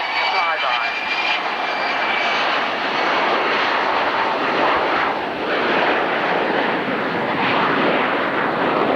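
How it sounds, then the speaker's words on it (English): A USAF aircraft makes a flyby at the 1991 Alconbury airshow with undercarriage and flaps lowered, giving a loud, steady, broad jet roar that fills the whole stretch while a voice speaks faintly underneath. "undercarriage and flaps, the aircraft making a flyby."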